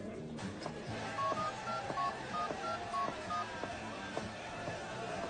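A telephone number is dialed with a quick string of short keypad tones over a faint background hum and soft music, moderately quiet.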